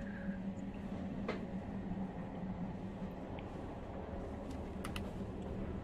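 A moving train in the video game Beyond: Two Souls gives a low, steady rumble of rolling wheels and carriage noise with a few faint clicks and knocks, sustained and fairly quiet.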